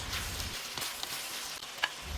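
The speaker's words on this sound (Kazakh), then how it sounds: "Қиярымызды 2-3 минут қуырамыз." A soft, steady sizzle of cucumber frying in a pan, fairly quiet, with a faint stir or scrape near the end.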